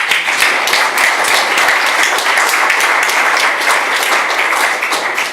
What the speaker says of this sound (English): it'd be nice to give him a round of applause.